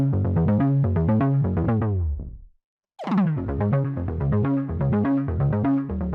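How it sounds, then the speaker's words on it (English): An Arturia FX Collection 3 tape stop effect on a looping bass line: the rhythmic pattern slows and drops in pitch to silence, then spins back up and resumes at full speed. "And you can also do tape stop effects with this,"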